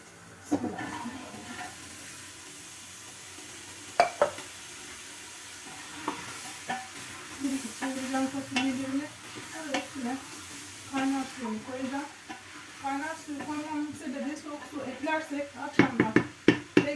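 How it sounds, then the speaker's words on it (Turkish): Dried beans tipped into a pot of sizzling meat for Turkish kuru fasulye, then stirred with steady scraping and clinks over a continuous close fry hiss, with a few louder knocks of a spoon against the pot. "Fasulyelerimizi ekleyin."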